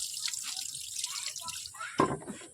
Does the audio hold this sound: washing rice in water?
yes